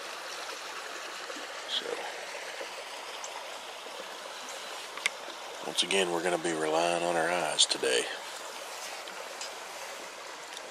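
A creek flowing beside an old log jam on a farm, heard as a steady outdoor rush of running water under a man's quiet speech, with a few louder splashing bursts near the middle.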